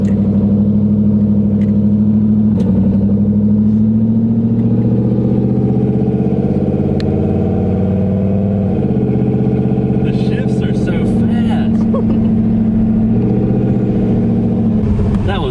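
A turbo Ford Thunderbird fitted with a 3800 stall torque converter drives on the road, a steady low engine drone with shifting pitch heard from inside the car, close and loud throughout.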